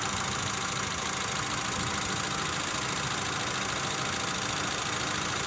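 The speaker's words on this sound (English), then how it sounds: "my dirty little motor is running" A dirty, hot-running 1992 Geo Tracker engine idles in a steady, unbroken mechanical drone with a faint knocking texture and no talking.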